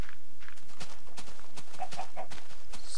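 Chickens cluck in the video game Minecraft as a series of short, sharp clicks and chirps, quiet and spaced irregularly over a few seconds, with no talk.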